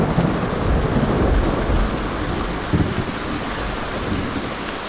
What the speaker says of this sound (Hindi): बारिश पहले पहाड़ पर आती है, जानती हो?